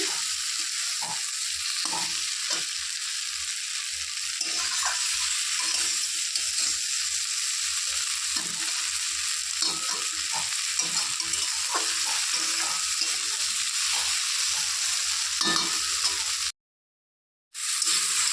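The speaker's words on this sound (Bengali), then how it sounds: "ঢাকনা খুলে আবার একটু ভালো করে নেড়ে দিচ্ছি" Sliced okra frying in oil in a covered pan that is then uncovered, giving a steady hiss and sizzle with irregular scraping stir strokes throughout, ending in a brief cut of silence.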